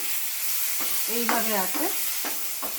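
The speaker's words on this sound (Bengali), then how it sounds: "পুরো জলটাকে টানিয়ে নিয়ে এটাকে এইভাবে নাড়িয়ে চাড়িয়ে" A spoon works through a thick bean and garlic paste in a hot pan, giving a steady sizzle with soft scraping strokes up close.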